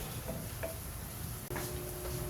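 Onions sautéing in a pan for smoked pork dinuguan, a steady soft sizzle with light scrapes as they are stirred, fairly quiet and close.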